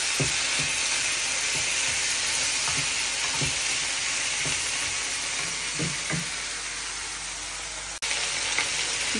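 Almonds, chopped onion and tomato frying in a pan, with a loud, steady, hissing sizzle and regular soft scrapes of stirring throughout, plus a brief sharp knock near the end.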